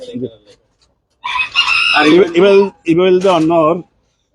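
A fighter-breed rooster crows loudly and close by in one long, strained call, preceded by a few faint short clucks.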